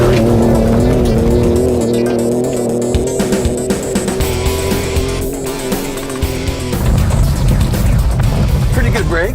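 A 2017 Ford Raptor pickup truck revs hard and drives aggressively off-road, engine roaring close by with bursts of tire squeal and scrabbling, while voices talk over the noise.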